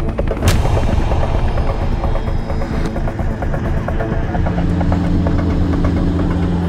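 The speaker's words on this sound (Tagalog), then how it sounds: "Nagpalipad sila ng 2 helicopter." Two China Coast Guard helicopters fly over the sea, producing a loud, constant rotor chop with a sharp bang near the start. A faint tonal whine runs through the later part.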